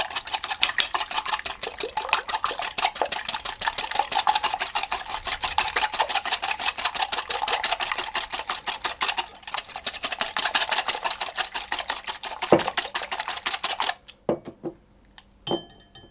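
Eggs whisked by hand in a bowl that held sugar: a rapid, steady stream of close clicking and scraping that runs continuously for about fourteen seconds, then breaks into a few scattered taps.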